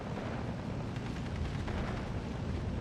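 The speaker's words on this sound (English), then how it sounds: "The ME-109s coming in for their strafing runs." Bf 109 fighters make strafing runs in the video game Steel Division 2, heard as a dense, continuous rumble of gunfire and explosions. It is fairly faint and distant throughout, with no talk.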